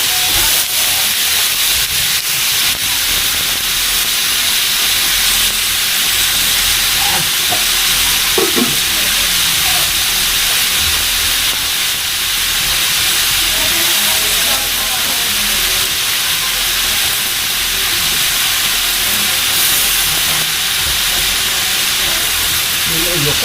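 Onions fry and sizzle steadily in a pan, starting to scorch while cooking ginataang papaya, with constant loud hiss and occasional stirring clatter throughout, faint voices now and then underneath.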